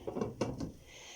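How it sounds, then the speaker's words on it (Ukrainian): A lid placed over a frying pan holding a potato pancake gives a quick series of light clunks and rattles close by, then settles into a faint steady hiss. "Накриваю кришкою"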